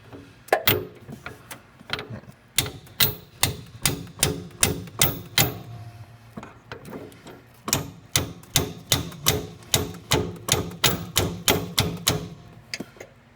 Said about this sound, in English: Now the next thing is to take a hammer.